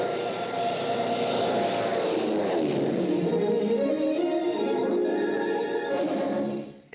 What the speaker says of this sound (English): A popular theme of the time was aeroplanes and daredevil pilots like Biggles and Hop Harrigan.